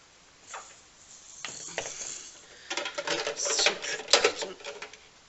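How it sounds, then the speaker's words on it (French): A small toy hair dryer whirs in short bursts, faint at first, then louder and buzzier, with brief gaps between. "Avec un petit sèche-cheveux. Je sais pas si vous entendez, il fait du bruit."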